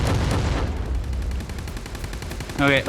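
Rapid bursts of gunfire from the mobile shooter game Delta Force Mobile crackle loudly in quick succession, and a voice cuts in briefly at the end.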